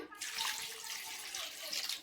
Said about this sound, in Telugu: మనము వాటర్ పోసుకుందాం అండి.